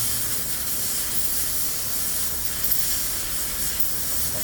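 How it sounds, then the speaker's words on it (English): Steady, loud hiss of steam rushing from the steam wand of a Gevi GECME003D-U espresso machine during a purge, continuous and unbroken with no voices. "We left the steam for some seconds, 30 seconds is okay, for the hot steam with all the pipe inside."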